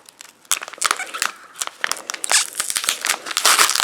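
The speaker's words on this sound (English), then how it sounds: "Some very strong tape there." Strong packing tape being ripped and peeled off a gift package, a series of sharp crackling tears and crinkles, close and fairly loud, with no talking.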